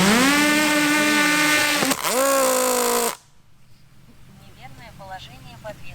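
The propellers of an Autel EVO 2 Pro drone spin up, giving a loud, rising tonal whine with a hitch partway through. It cuts off abruptly, then a quieter whir continues under voices.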